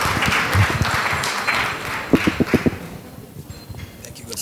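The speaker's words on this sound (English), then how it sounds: "A round of applause, please, for Dr. Korir." Audience applause for Dr. Korir at a Nairobi climate security session, sparse clapping that thins out with a few louder, closer individual claps near the middle before fading into room noise.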